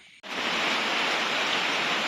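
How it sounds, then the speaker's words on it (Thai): Steady rain falling outdoors during a catfish fishing trip, a dense, even hiss that starts abruptly and then holds at a constant loud level with no pauses. "ฝนก็ตกพอดีครับ"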